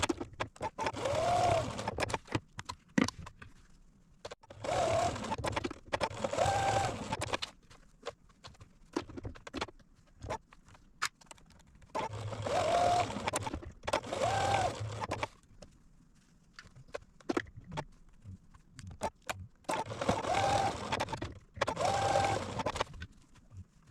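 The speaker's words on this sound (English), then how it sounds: "I'm going to sew them on all the way down on the machine." A sewing machine stitches buttons onto a matching boys' shirt, running in several loud bursts of a few seconds each, separated by short quieter pauses.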